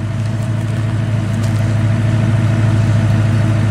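Ford Mustang V8 with a four-barrel carburetor idling and running steadily nearby, a deep continuous engine rumble holding even throughout with no voices.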